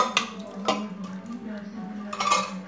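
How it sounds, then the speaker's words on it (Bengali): Mutton gravy is ladled over layered rice in a biryani pot, with a few sharp metallic clinks of the ladle against the pot, close by, over a faint background hum. "এইবার আমি ঝোলটা উপর দিয়ে দিয়ে দেব। ভালো করে চারিদিক দিয়ে ঘুরিয়ে ঘুরিয়ে আমি ঝোল দেব।"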